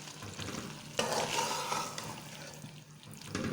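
A pan of boiled chana dal and ridge gourd is stirred, giving steady scraping and sloshing over a soft sizzle that swells briefly near the middle. No one speaks.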